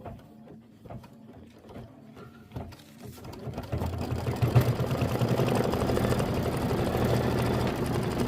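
A Kimberbell embroidery machine stitches accent siding in a 5x7 hoop. Sparse mechanical ticks and clunks build into a steady, close, rapid whirring and needle rattle that runs on evenly.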